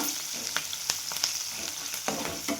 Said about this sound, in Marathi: चण्याची डाळ, उडदाची डाळ छान भाजल्या गेलेली आहे.